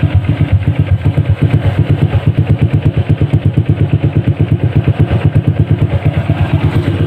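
A loud motorcycle engine with its Yoshimura exhaust silencer removed idles nearby with a rapid, steady chugging pulse and rough clattering exhaust throughout.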